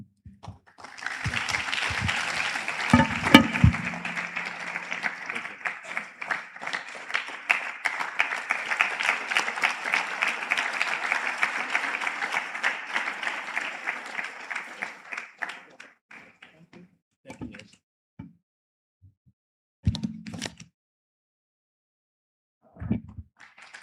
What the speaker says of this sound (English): can you give His Excellency a resounding round of applause as he resumes his seat?